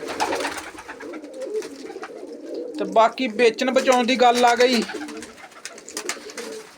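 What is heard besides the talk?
pigeons cooing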